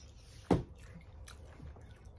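A single wet, crunchy bite with brief chewing on lobster from a pasta plate, close and quiet over low room noise.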